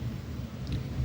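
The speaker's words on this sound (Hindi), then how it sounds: "अभी बादल गरज रहे हैं, सुनाई दे रहा होगा आपको" A faint, low thunder rumble during light rain, brief and distant-sounding under a soft background hiss.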